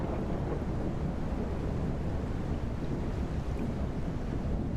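A ship's engine in the Nautic XP ship simulator game throttling up, a steady broad rumble blended with wind and sea noise, constant and unbroken.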